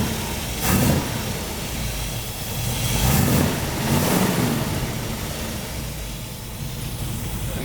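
Exhaust of a running 1963 Buick LeSabre with its nailhead V8, a steady low rumble that swells in a couple of brief surges, heard up close with some wind noise.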